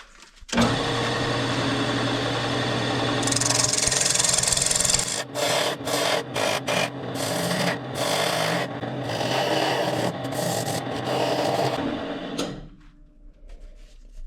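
A wood tenon is turned on a lathe: a gouge scrapes steadily against the spinning wood over the motor's hum, with brief pauses and rough bursts, before the cutting stops and the machine winds down.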